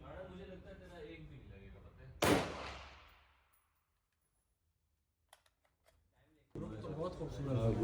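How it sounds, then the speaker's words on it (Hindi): A single sharp, loud M4 rifle shot fired at a target during rifle zeroing, with a long fading echo. Someone talks before the shot and again after a quiet pause. "अब हमने उसी बुलेट को दोबारा से लोड किया है और हम अपना थर्ड फायर टारगेट के ऊपर करने लगे हैं"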